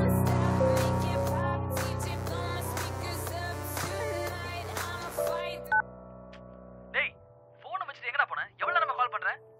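A telephone call is placed over a sustained tonal background, followed by a few separate short electronic beeps of dialing, with a voice faintly under the tones.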